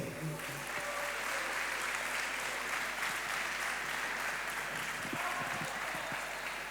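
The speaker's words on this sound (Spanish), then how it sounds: "Otro aplauso, otro aplauso." Audience applause at a talk in Los Realejos, a steady, fairly faint wash of clapping that continues evenly throughout without speech over it.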